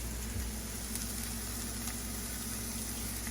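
Vegetables for a veggie burger sizzle steadily in a hot pan, a continuous close hiss with a low hum underneath and no talking.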